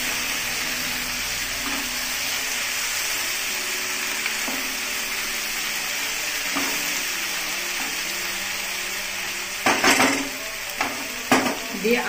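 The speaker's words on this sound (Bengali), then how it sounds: "বেশ কয়েক মিনিট হয়ে যাওয়ার পর আমি এটাকে আবার নাড়িয়ে দিলাম" Spicy semolina being stirred in a pan, a soft continuous sizzle with faint scraping strokes, then a few sharper clinks and scrapes of a utensil against the pan near the end.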